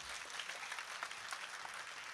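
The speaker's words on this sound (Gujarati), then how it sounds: "ચિરંજીવ ગોસ્વામી શ્રી રશેષ કુમારજી મહોદયશ્રીને સતત તાળીઓથી વધાવીએ" Steady applause from an audience at a stage play during a birthday celebration in Rajkot, sounding distant and soft, an even wash of clapping throughout.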